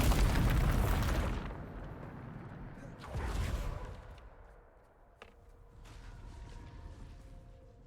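Loud, booming Bombarda spell blast in Hogwarts Legacy, a heavy explosion rolling off, then a second burst and a fainter crack as it fades.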